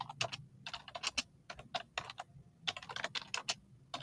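Quiet, steady typing on a computer keyboard while entering a folder name: a fast run of light key clicks in short clusters, close and alone with no voices.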